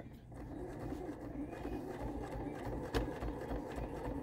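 A sewing machine runs a straight stitch alongside an earlier row of stitching, giving a faint, steady mechanical whir with a fine rapid pulse and one small knock partway through.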